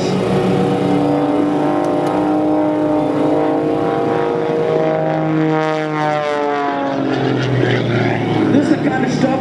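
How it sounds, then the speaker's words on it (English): A propeller aerobatic airplane performs at the Arctic Thunder airshow in cold Alaskan air, its engine droning loud with sweeping, shifting pitch as it maneuvers, while a commentator talks over it. "Here we're just doing it with a lot of induced airflow over that tail, that empty propeller fighting this cold Alaskan air."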